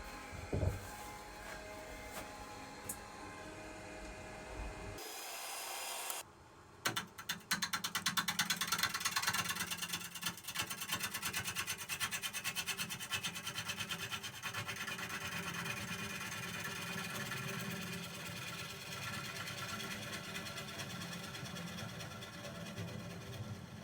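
A wood lathe hollows a tough laburnum triple-crotch live-edge bowl, the cutting tool rasping and chattering steadily against sapwood and heartwood, loud and continuous after a brief pause near the start.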